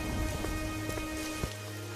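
Heavy rain pouring down on a cold night, a dense steady hiss of drops striking surfaces, loud and continuous with no voices.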